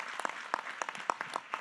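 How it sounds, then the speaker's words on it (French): Sparse, faint applause for a project at an agricultural tech challenge, a few separate hand claps at uneven intervals from a small audience. "Allez, on peut vous applaudir"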